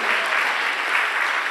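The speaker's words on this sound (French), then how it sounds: "nous applaudissons le Seigneur pour ce genou" A church congregation claps steadily together in a dense, even burst of applause, moderately loud and with no talking.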